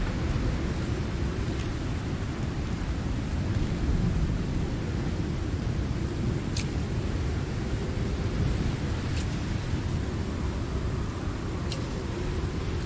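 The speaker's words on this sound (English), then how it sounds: "My god, this is quite the storm. It's really loud." A thunderstorm rages in the video game Icarus, a loud, constant roar of heavy rain with a few brief, sharp crackles scattered through it.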